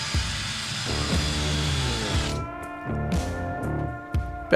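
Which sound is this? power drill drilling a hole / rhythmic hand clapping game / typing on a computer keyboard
power drill drilling a hole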